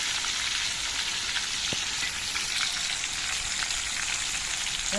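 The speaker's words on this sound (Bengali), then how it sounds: "তো আমি খুব বেশি কড়া করে মাছটা ভাজবো না।" Katla fish frying in oil in a wok, a steady, moderately loud hiss and crackle with no other sounds.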